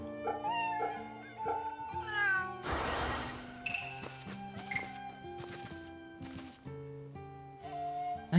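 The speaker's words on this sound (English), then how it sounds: "This cat is very vocal." A very vocal cat in Fate/Samurai Remnant meows repeatedly over layered game music, several drawn-out cries rising and falling across the scene, with a brief noisy burst midway.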